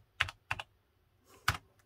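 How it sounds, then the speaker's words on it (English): Keys clack on an Atari XE computer keyboard in a few quick, close, sharp strokes: two taps, a pause, then one more firm keystroke, with no voices. "Do love that keyboard."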